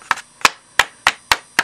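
Sandpaper is tapped against the edge of a trash bin to knock out the clogged dust, making six sharp, evenly spaced smacks up close within under two seconds.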